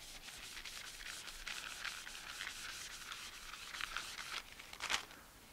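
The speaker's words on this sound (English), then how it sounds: "Something as simple as a brown paper bag or a piece of craft paper, and just use it to buff it." Brown paper bag rubbed briskly over a smooth wood finish, a steady close dry rasping in quick back-and-forth strokes, with a sharper louder swipe near the end.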